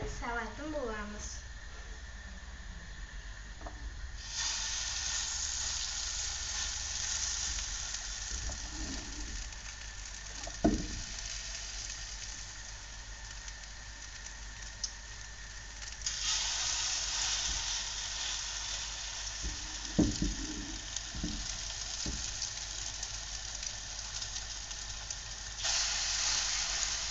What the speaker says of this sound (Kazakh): Міне мен табамды қыздырып алдым. Енді оған бір қасық оладьиді салатын боламыз.